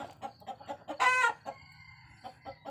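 Farmyard chickens cluck in quick repeated bursts, and a rooster crows once loudly in the middle, close by with no talk.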